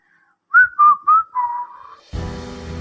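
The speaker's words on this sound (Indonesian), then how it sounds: "dari sela bibir pemuda ini terdengarlah suara siulan" A short whistled tune of several clear rising and falling notes from a person's lips, played alone in an audiobook, cut off by a burst of background music.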